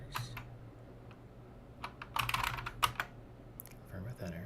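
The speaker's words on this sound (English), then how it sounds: "Press A, type some characters." Typing characters on a computer keyboard, scattered keystrokes building into a quick cluster of clicks near the mic, with a low hum in the background.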